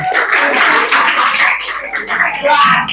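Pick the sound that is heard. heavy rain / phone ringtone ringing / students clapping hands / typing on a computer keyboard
students clapping hands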